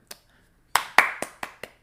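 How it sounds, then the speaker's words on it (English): Audience applause in a small gathering: a handful of separate, fairly close claps in an uneven rhythm, starting sparse and then landing as several sharp hand claps. "I appreciate the claps"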